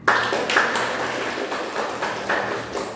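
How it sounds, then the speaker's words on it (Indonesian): Students in a classroom clap after a group presentation, with a few sharp, close hand claps standing out over a light, uneven patter that fades and returns. "Tepuk tangan"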